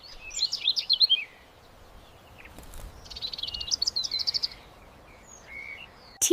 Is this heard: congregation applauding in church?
no